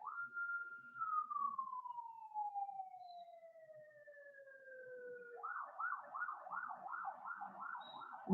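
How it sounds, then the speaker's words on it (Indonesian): An ambulance siren passes outside during an online lesson: a long tone glides steadily downward, then switches to a rapid rising-and-falling wail, fairly clear with no talking over it. "bentar ya, ada ambulan lewat"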